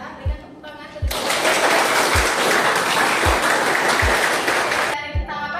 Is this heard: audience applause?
yes